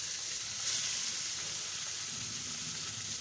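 Katla fish sizzles in oil in a wok, a steady, close hiss of frying that holds evenly throughout, with a slight surge early on.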